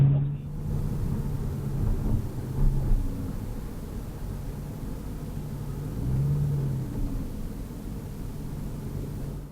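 A BMW M3 drives along with a low, steady engine rumble and road noise heard from inside the cabin, fairly quiet and even with a slight swell midway, no talking.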